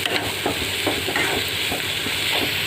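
Ginger garlic paste, garam masala and cumin powder being stirred into vegetables in a hot pan, a steady sizzling hiss with soft scraping strokes of the spoon recurring every half second or so.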